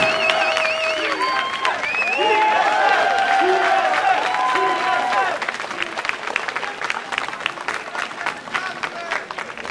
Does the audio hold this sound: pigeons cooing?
no